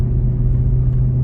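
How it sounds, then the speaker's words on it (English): A 1-ton pickup truck tows a scrap trailer up a steep hill, its engine giving a steady, loud, close low rumble with a strong hum that holds throughout, and no voices. "The truck just shifts, downshifts on its own"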